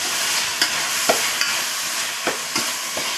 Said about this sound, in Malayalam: ഇത് മൊത്തത്തിൽ ഇനി ഇതൊന്ന് മിക്സ് ചെയ്യണം എല്ലാം കൂടെ